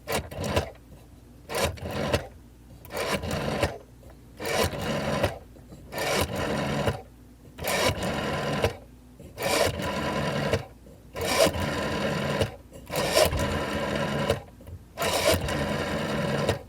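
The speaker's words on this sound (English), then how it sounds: "when they dialed, you had to rotate the dial on it, and it sounded a lot like this" An old rotary phone dial is turned again and again, each spin giving a short whirring, ratcheting burst with brief gaps between, repeated about a dozen times close up.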